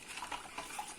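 A spoon quietly stirs salt into a brine of water for pickling turnips, making faint, soft scraping and light clinks against the container in a short, close, gentle swirl.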